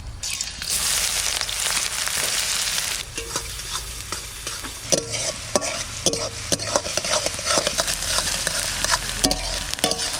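Chopped onion sizzles loudly in hot oil with whole garam masala in a kadai, a spatula stirring and scraping in repeated strokes near at hand.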